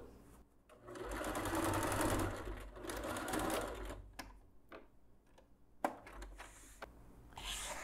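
A sewing machine stitches a towel sarong in rapid, close, continuous bursts, pausing between runs, with a few sharp clicks and faint handling noises.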